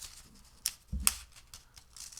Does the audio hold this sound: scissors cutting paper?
yes